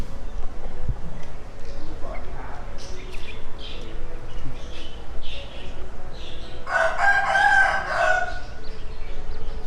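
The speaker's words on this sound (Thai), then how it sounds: "ตัวนี้จะเป็นไก่บ้านนะครับ" A domestic rooster lets out a loud, close crow near the end, preceded by scattered softer bird calls and clucks amid background chatter at a busy indoor shopping mall animal exhibit.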